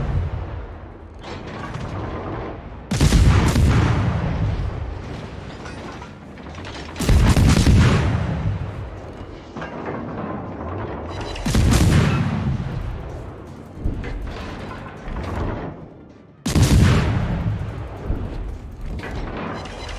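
Heavy naval gun salvos in World of Warships, with a Graf Spee and battleships in the fight while a Gnevny destroyer is played: four loud booming broadsides roughly every four to five seconds, each with a rumbling tail.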